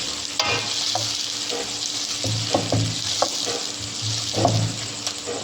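Onions frying in a pan for a Tamil-style gravy served with dosa and idiyappam, a steady close sizzle with a few soft stirring scrapes and clinks, no talk.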